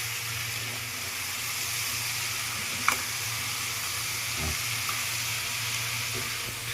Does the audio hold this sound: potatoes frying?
yes